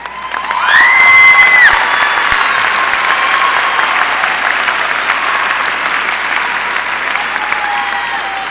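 Large commencement audience applauding loudly in a university ceremony hall, a dense steady wash of clapping that swells early then holds, with faint cheers and whistles mixed in.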